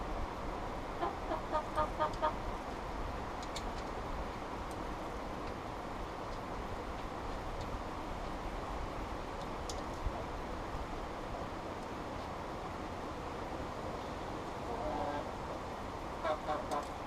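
Chickens clucking in short, scattered bursts over a steady outdoor background, moderately close and fairly faint, with no talk.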